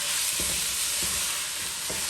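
Pork sizzles and fries in a hot pan with Guyanese geera spices, a steady broadband hiss broken by a few soft stirring scrapes, close and alone without talk.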